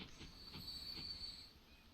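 Train wheels squeal on rails in Transport Fever 2, a sustained high metallic screech over a low rumble and faint rhythmic rail clatter, steady then easing off.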